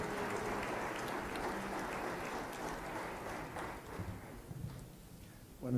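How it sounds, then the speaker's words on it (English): Audience applause for Miguel Ángel Marquez, secretary of the Menorca Association, at a media conference session: a dense, steady patter of clapping from a crowd that thins out toward the end. "let's have a round of applause for Miguel Ángel Marquez"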